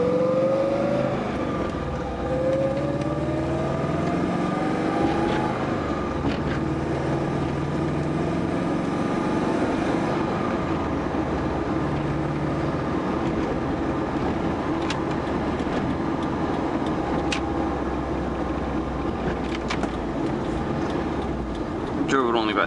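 A car with a stock Subaru EJ20G engine warms up, its steady idle drone running close and even throughout, with a brief rise in pitch near the start.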